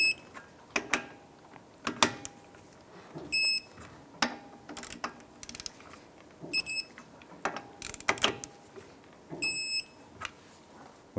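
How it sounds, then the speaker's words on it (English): Torque wrench tightening lug nuts on a 2001-2007 Ford Escape during front wheel bearing and hub work, giving sharp, repeated metallic clicks at uneven intervals, with intermittent short electronic beeps in a quiet garage. "Go ahead and torque the lug nuts down to 98 foot-pounds."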